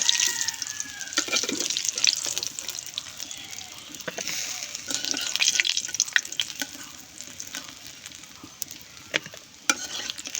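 Fish spiced with turmeric, chilli powder and salt crackles and sizzles in hot oil, with a continuous bright hiss broken by frequent sharp pops and stirring clatter.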